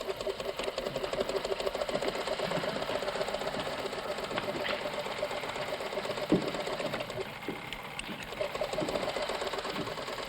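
A sewing machine runs continuously in a tailor shop, a rapid, steady mechanical chatter with faint clunks, close and moderately loud, without talking.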